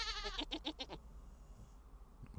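Goats in the video game Vintage Story bleat in a short quavering burst of several pulsed calls, then fall quiet over a low background hum.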